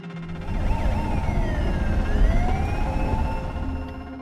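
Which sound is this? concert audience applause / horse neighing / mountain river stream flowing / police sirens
police sirens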